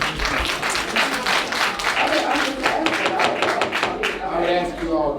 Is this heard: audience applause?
yes